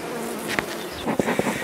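Dense, steady buzzing of many honeybees at an opened hive, one of the strongest colonies, close and continuous with a few louder passes of individual bees, no talk.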